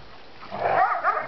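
Saint Bernard and Australian Shepherd mix dog, big and thick-coated, playing in snow and giving a short, close vocal burst of barking or yipping, with no talk over it.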